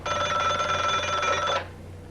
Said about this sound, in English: The phone rings and he gets his target here.